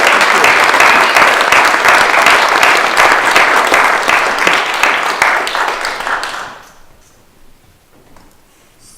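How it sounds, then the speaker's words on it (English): A gathering for an evening of women writers and artists breaks into loud, dense applause, with the clapping thinning out and fading away after about six seconds, leaving near silence. "a round of applause"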